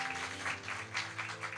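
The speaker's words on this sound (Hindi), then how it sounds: "जोर से ताली बजा सकते हैं हम इनके लिए" A church congregation claps loudly and steadily for first-time visitors during a Hindi Sunday morning service, with sustained tones held underneath the applause.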